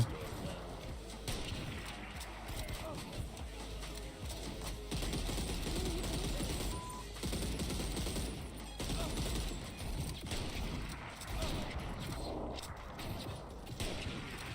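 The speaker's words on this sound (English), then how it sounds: "Shoot the explosive barrel, and shoot that guy" Dense automatic gunfire from a video game shooter with weapons including an assault rifle, sustained rattling bursts over a continuous loud game soundscape.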